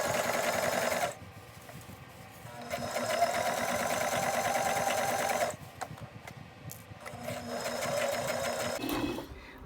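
A sewing machine runs in three bursts while stitching a suit sleeve seam, its fast, even whirring buzz starting and stopping between short quiet pauses, fairly faint and steady with no talking.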